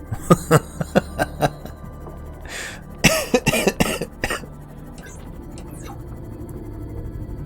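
A person on a livestream coughs repeatedly up close, a rhythmic run of short hacks followed by a harsher cluster of throat-clearing coughs, then quieter rustling.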